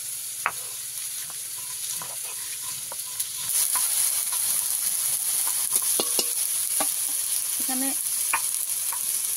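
Ginger and tomato frying with turmeric in a pan, a soft sizzle with scattered stirring scrapes and clicks, growing a little louder partway through, with a brief word spoken.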